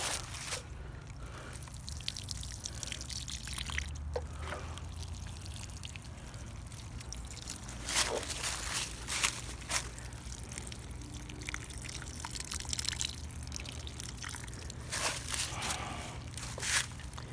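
Two gallons of water are poured onto garden lettuce plants, giving a steady, soft trickle and splash at a distance with occasional louder spatters and a low background hum.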